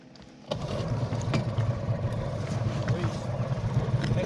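An outboard motor on an Intex Seahawk inflatable boat, used for inshore fishing, starts abruptly and then runs steadily at close range, a continuous loud engine drone with no pause.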